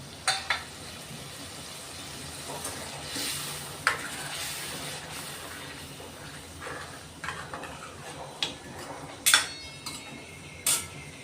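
Half-cooked drumsticks stirred into oil-glossed masala for a rustic village-style drumstick curry, with steady soft sizzling under scattered spoon scrapes and clinks against the pan, close and fairly quiet.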